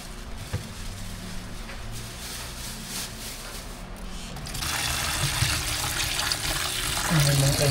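Tap water running steadily into a container while food is soaked to thaw off ice, a continuous close splashing hiss that grows louder and fuller partway through, with a voice speaking over it.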